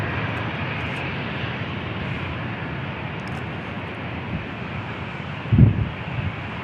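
An Alaska Airlines airliner takes off from San Diego International Airport, bound for Portland: a steady, broad jet roar that holds across the whole stretch, with wind buffeting the microphone and one brief low thump near the end.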